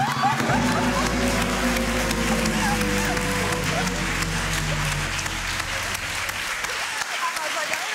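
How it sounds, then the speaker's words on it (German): Studio audience claps loudly and steadily for an Olympic champion on a German comedy show, sustained applause with some cheering that fades out near the end. "Und jetzt einen kleinen ermunternden Applaus ja. für den Olympiasieger."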